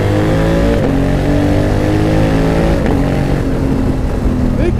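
A 2020 Honda Africa Twin 1100 adventure motorcycle engine revs loudly and steadily up close, with a few quick throttle blips rising over the continuous roar.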